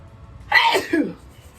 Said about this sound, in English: You can sneeze and cough now, people.